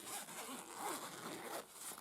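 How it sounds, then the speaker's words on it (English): A pencil case zipper is drawn open in one steady, close pull lasting about two seconds, a continuous raspy zipping with slight bursts along the way and no talking. "undo the zipper"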